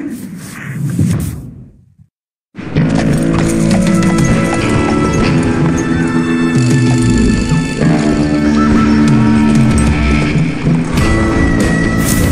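Horses gallop in the western video game Call of Juarez: Gunslinger, a loud, close, steady clatter of hooves that runs continuously after a brief silent gap, with a neigh near the start.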